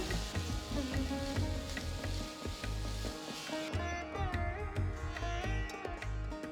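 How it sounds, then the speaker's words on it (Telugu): Coconut and jaggery modak filling is stirred in a pan over a low flame, giving a steady soft sizzle and scraping that runs throughout without voices. "లో ఫ్లేమ్లో కొబ్బరి బెల్లం బాగా కలిసేటట్టు కలుపుకోవాలి"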